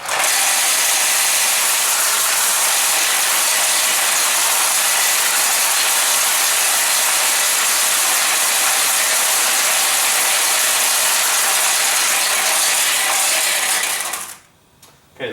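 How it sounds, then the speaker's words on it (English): Pachinko balls roll out of a Nishijin machine after its drain lever is pushed, a dense continuous metallic rattling clatter, loud and close, that runs steadily for many seconds before cutting off abruptly. "So we'll push down on this drain lever, and when we do, the balls that are here will roll out and roll into here."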